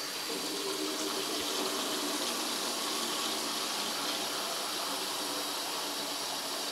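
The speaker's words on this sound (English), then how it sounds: "I'm just going to put a little bit of water in this tray and let it soak." Water running steadily from a tap into a tray for soaking dyed roving, a continuous close, even gushing hiss with no talk over it.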